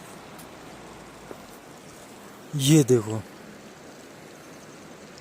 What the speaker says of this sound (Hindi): ये झरना जा रहा है, गंगा माता मतलब बह रही हैं